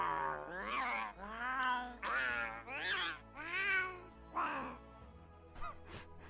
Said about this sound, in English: High pitch angry cat sounds.